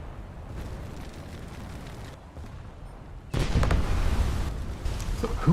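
Naval gunfire from a British cruiser battle in a naval video game: a low, rumbling backdrop jumps abruptly into loud, broadband booming impacts partway through, with heavy rolling blasts continuing to the end.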